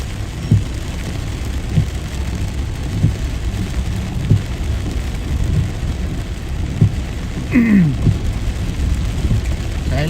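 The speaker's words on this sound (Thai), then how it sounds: "โอ้โหฝนตกถนนลื่นนะฮะ" Rain falls steadily outdoors in Chiang Mai, a continuous wash of patter with scattered low thumps and a passing whine from traffic on a wet road, with no voices.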